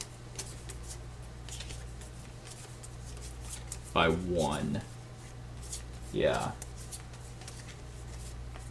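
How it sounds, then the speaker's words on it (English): Three playing cards shuffled by hand during a solo board game, giving soft, quiet papery riffles and slides over a steady low hum, with two brief bursts of speech. "It feels weird shuffling 3 cards."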